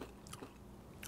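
A crunchy holiday snack mix with cayenne and orange zest being bitten and chewed up close, with a few quiet crisp crunches over a soft, low background.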